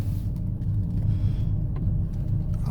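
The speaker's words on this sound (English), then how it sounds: "I'm driving right now" A car drives along a road, heard from inside as a steady, close low rumble of engine and tyres, with no talking.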